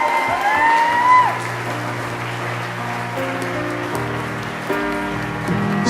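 A crowd at the 2010 Recruit finale night applauds and cheers for the winner, a dense spattering clap that peaks early and then settles into steady applause under music.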